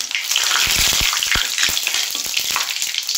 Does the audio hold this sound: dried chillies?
yes